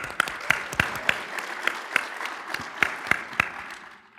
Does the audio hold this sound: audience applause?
yes